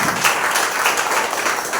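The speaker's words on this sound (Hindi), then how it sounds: "एक जोरदार ताली बजाइए" Loud, steady applause from a church congregation at a Sunday service, dense clapping filling the room without a break from start to finish.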